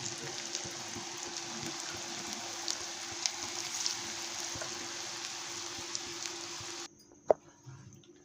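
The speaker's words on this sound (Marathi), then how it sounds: "आता आपण असंच तळून घ्यायचं आहे" Leftover chapati pieces fry in hot oil with a steady, close crackling sizzle that runs unbroken for several seconds, then cuts away to near quiet with a single faint clink.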